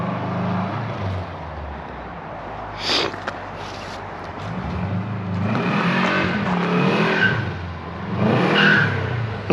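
Subaru engine swapped into a Volkswagen Karmann Ghia, revving in a few rising bursts with a steady idle rumble between them, close and fairly loud with no talk.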